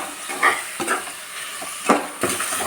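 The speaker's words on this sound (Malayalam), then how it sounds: "ഈ തക്കാളി ചേർത്തിട്ട് നന്നായിട്ട് വഴറ്റാം." Two medium tomatoes, thinly sliced, are sautéed with onions in a pan for chicken curry. A spatula scrapes and stirs in irregular strokes over a soft, steady sizzle, with no voices.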